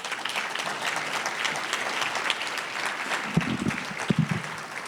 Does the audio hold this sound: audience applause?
yes